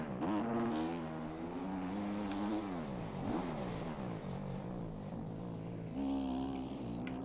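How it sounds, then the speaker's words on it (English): A dirt bike engine in the MX Bikes motocross game revs continuously, its buzzing tone rising and falling with throttle and gear changes, loud and close throughout. "Go into third gear here."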